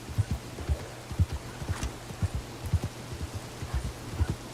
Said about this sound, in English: because it's raining, my horse is going to go full tilt regardless